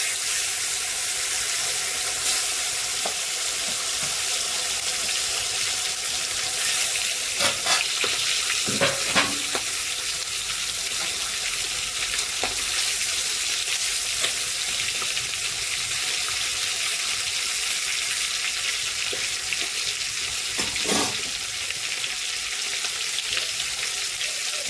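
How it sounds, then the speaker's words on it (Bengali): Pieces of fish sizzle in hot oil in a kadai, a loud, steady crackling hiss that runs throughout, with a few clatters of stirring and no talking. "ওই মাছ কটা আরেকবার দিয়ে কড়াইতে ভালো করে ভেজে নেব"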